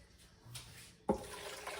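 About half a cup of water is poured into a pan of boiled tomatoes and jalapeños, a sudden splash followed by a brief soft liquid trickle, close and moderately quiet.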